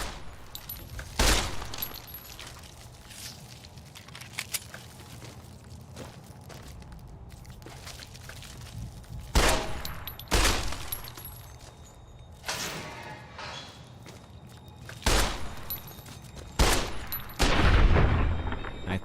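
Gunshots fire in bursts during a shootout in the post-apocalyptic game Fallout: New Vegas, loud cracks spaced several seconds apart with brief rapid volleys, footsteps and clatter between them.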